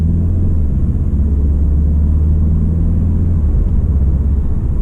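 Loud, steady low rumble of a car engine under acceleration on a drive with a Stage 1 tune and DSG gearbox, a continuous droning roar with no talking.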